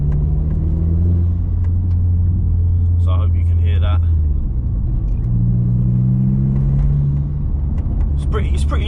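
Inside or beside an MK4 Golf GTI fitted with a Forge diverter valve, the engine rumbles loud and close with rising and falling revs and brief whooshing bursts, while someone talks over it.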